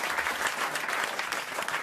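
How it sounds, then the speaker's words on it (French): A studio audience applauds with dense, continuous clapping that stays steady and fairly loud from start to finish. "Qui applaudit comme ça?"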